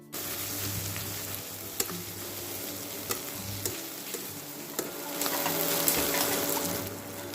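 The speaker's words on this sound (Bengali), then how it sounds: "তেল না বেরোনো পর্যন্ত খুবই ভালো করে মশলাটা ভেজে নিতে হবে" Ginger-garlic paste frying in oil for a chicken kasha, a soft continuous sizzle with a spoon scraping and tapping the pan every second or so, close by.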